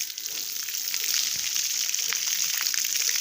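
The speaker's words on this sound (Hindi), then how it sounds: "अब हम बटन चालू करके आ गए हैं, और इस पाइप से पानी निकलने लगा" Steady hissing rush of water pouring from a pipe after a pump is switched on, continuous and fairly close with a bright splashing texture throughout, no talking.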